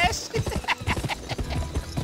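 Horse hooves clip-clopping in a fast gallop after being spurred in the Western video game Gun, a quick rhythmic run of hoofbeats with a brief whinny, close and prominent.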